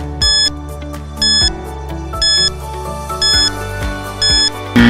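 A quiz countdown timer plays as an alarm-clock-style electronic ringing, six evenly spaced loud bursts of bright layered tones over a steady low ticking bed, with no talking.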